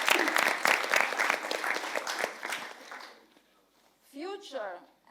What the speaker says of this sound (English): round of applause for our three first speakers